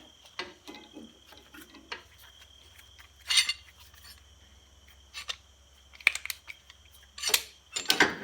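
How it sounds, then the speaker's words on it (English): Metal clamps being clicked back onto a homemade stainless steel burner shield for a propane grill: close, sharp metallic clacks and scrapes arriving in scattered bursts over a quiet background. "Put your clamps back on."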